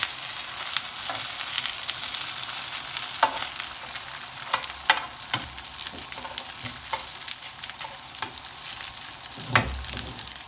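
Pork gyoza dumplings sizzle steadily in a hot frying pan, a continuous crackling fry broken by occasional sharper pops and scrapes, with no talking.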